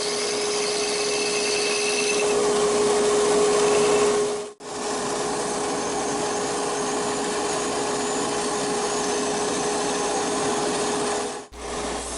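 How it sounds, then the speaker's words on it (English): A wood lathe spins a wooden clock ring while it is sanded, giving a steady whirring hum with a constant tone and rasping friction, broken by two brief drops where the sound cuts out. "while the lathe is spinning like this is a great time to actually do the sanding"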